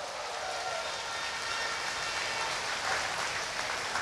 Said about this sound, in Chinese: 大家拍手支持马哈爹好吗？